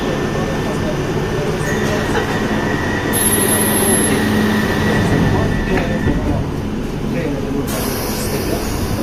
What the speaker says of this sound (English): This is a Piccadilly line service to Uxbridge.